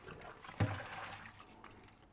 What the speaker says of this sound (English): Let's dump this water